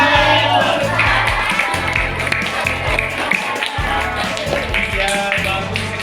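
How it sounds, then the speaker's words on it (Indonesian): Classmates clap in a classroom after a group presentation, a steady patter of many hands running throughout over a low background hum, with no talking. "Tepuk tangan."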